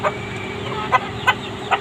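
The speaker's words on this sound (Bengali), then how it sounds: "আমাদের ফার্মের সব থেকে ভাইরাল মুরগি এই লাল মোরগটা" Chickens and a red rooster cluck in a few short, distinct bursts, about four sharp calls spaced apart over a low, steady background hum on a poultry farm.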